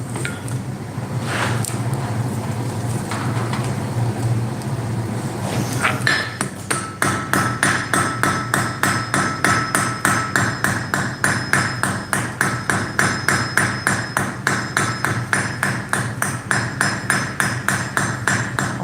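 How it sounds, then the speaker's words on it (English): Hammer striking metal while forging a Midgard serpent piece, a steady series of light, evenly spaced ringing taps following a few scattered louder knocks, close and clear. "Light taps, just making it nice and even, like this."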